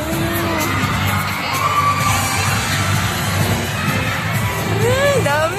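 A large concert crowd screams and cheers loudly and continuously, shrill whoops and yells rising over a dense roar, with a sharp bang near the end.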